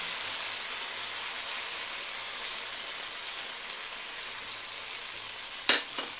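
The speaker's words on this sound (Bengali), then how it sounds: "এগুলো ভালো করে কষাতে হবে" Taro paste sautés with red chilli, turmeric and salt in a pan, giving a continuous even sizzle and hiss. A single sharp knock sounds near the end.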